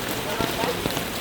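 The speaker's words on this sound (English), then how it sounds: "let's wait a little bit if the rain is going to stop" Steady rain falls at night in Boracay, a dense, even hiss of drops on surfaces with a few slightly louder patters, close and continuous throughout.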